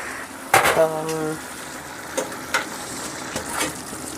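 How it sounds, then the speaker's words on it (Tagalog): Food sizzles and crackles in a hot pan nearby, with a few stirring scrapes and clinks over the steady frying hiss. "Dito lang natin igisa."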